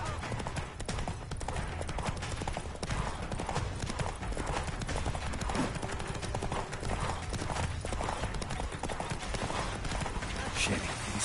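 Roach, a horse in The Witcher video game, gallops with continuous rapid hoofbeats under a dense mix of game sound and speaking voices, holding a steady drive throughout.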